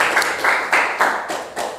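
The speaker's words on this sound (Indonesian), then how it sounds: "Ya, silakan kembali tepuk tangan." Students in a classroom clap in unison, giving a rhythmic run of about six evenly spaced group claps, close and fairly loud.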